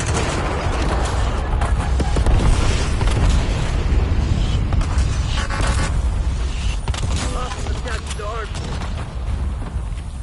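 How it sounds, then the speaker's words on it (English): Napalm strike explosions in Warzone on Verdansk, a sustained roaring rumble of booms with crackling bursts that stays loud throughout, mixed with game announcer voice callouts. "Enemy napalm strike incoming."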